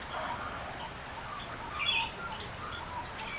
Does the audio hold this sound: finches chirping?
yes